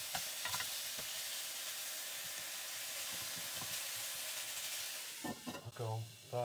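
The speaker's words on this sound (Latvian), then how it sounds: "Paņemsim, atkal apmaisīsim gaļiņu." Meat frying with rice in a pot, a steady sizzle and hiss with stirring scrapes, near and continuous, ending with some clatter and a brief low tone.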